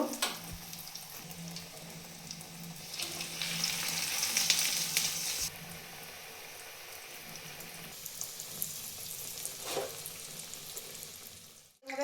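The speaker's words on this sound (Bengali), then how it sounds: "দেখুন বন্ধুরা কি সুন্দরভাবে কাটলেটগুলো ভাজা হচ্ছে" Chicken cutlets shallow-frying over low heat give a quiet, steady sizzle with a louder burst of crackling partway through and a few scattered clicks, no talk.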